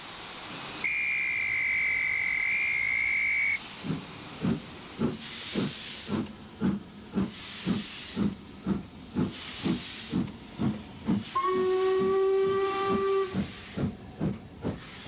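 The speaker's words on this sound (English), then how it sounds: "Then it's back to the station for a trip on a steam train." A steam locomotive on the West Highland line to Mallaig, Scotland, lets out whistle blasts at the start and end, with rhythmic chuffing and hissing steam pulsing steadily in between.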